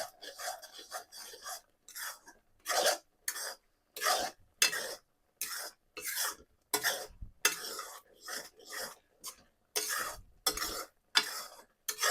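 Spice powder for a garlic pickle being stirred in a kadai: a close series of scraping, clattering strokes of spoon against metal, with short pauses between bursts and no talking.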